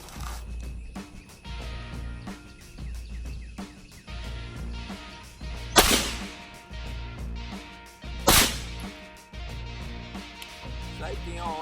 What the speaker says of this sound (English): I'm going to shoot actually through one of my swings here into the yard, just a cup out in the yard